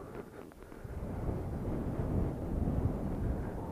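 Gusty wind buffets the microphone at a volcano crater lookout, a loud, continuous low roar that swells and stays strong, with no voices.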